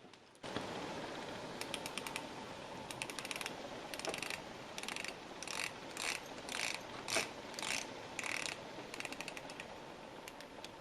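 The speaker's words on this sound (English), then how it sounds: "Now let's try the bezel." A watch bezel is turned by hand on a newly unboxed watch, giving bursts of fine, crisp ratcheting clicks in quick clusters with short pauses, close and quiet.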